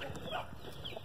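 Young pullets, hatched last fall, peck and scratch through mulch in a garden, giving soft close clucks and faint rustling over steady background noise.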